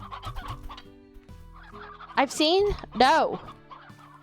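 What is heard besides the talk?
chickens clucking in the video game Slime Rancher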